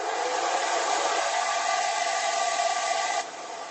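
Dryer blowing air to dry paint on an artwork, a steady loud whooshing drone that drops in intensity near the end.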